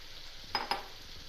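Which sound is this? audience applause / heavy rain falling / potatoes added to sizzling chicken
potatoes added to sizzling chicken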